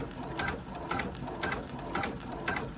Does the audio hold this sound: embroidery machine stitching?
yes